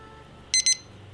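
A thermometer probe alarm on a smoker gives two quick, high electronic beeps, close and clear over a low background hum.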